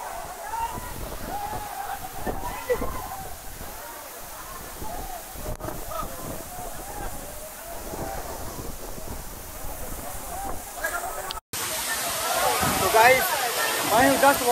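Bada Aapkhol waterfall in Bargarh, Odisha roars with a steady, broad rush of falling water close by, and a person speaks over the continuous noise.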